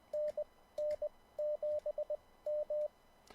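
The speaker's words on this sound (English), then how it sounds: "here's what it sounds like in Morse code." Morse code tones for an amateur radio call sign, a clean steady pitch keyed into short dits and longer dahs in three rhythmic groups against a quiet background.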